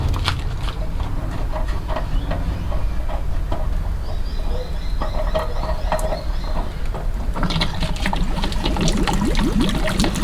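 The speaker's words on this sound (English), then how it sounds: "there's going to be water coming out of there. It's not going to be gushing, it's just going to be running out" Water running and trickling steadily out of the anode rod port on a water heater, a continuous wet splashing flow with some clanks and handling noises over it, louder and busier near the end.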